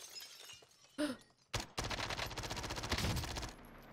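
A sustained burst of rapid automatic gunfire in Warzone, a dense rattling stream lasting about two seconds after a couple of single shots, fairly close and loud.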